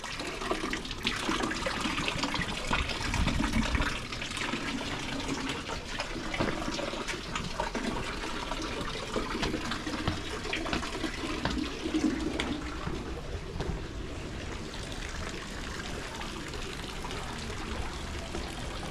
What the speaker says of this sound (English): The water, a component always present in these Muslim palaces, Arab palaces.